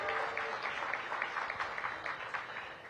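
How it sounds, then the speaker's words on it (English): Audience applause at the topping-out celebration for Cedar Hill Regional Medical Center in Ward 8, Washington DC, steady moderate clapping from a crowd for a council member, continuing for about three seconds with slight swells. "Please give him a round of applause."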